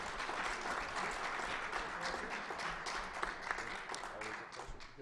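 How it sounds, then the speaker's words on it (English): Sustained applause from a conference audience after a panel discussion, dense steady clapping throughout with crowd noise mixed in. "Let's please now give a round of applause for a great panel."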